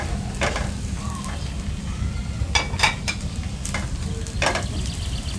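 Bay leaf, cloves, peppercorns, cardamom and cinnamon sticks fry with onions in a pot of oil for beef khichuri, a close steady sizzle broken by a few sharp spoon-on-metal stirring scrapes and clinks.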